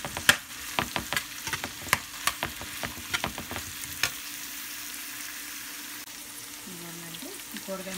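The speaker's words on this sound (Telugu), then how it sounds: "కూరగాయ ముక్కలు వేసుకుందండి." Chopped vegetables such as cauliflower and broccoli fry in a pan for a vegetable quinoa rice dish, giving a steady sizzle broken by repeated sharp stirring scrapes in the first half, then a quieter hiss.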